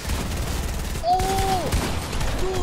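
Rapid bursts of gunfire in Fortnite, a dense close rattle of shots with a brief rising electronic whistle cutting through midway.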